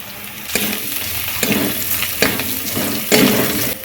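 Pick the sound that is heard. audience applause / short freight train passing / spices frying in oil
spices frying in oil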